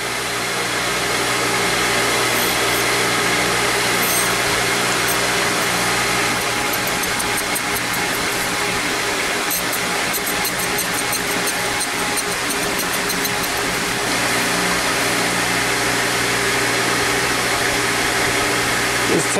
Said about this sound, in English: I've got the holder all set to start grinding.